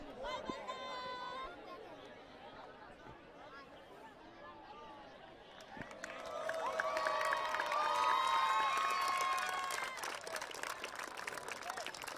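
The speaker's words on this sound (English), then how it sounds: "A round of applause from the India players, a bow of appreciation from them." A crowd at an India versus Bangladesh Asia Rugby match in Kolkata chatters and calls out, then swells into louder cheering and scattered clapping in the second half, with voices mixed throughout.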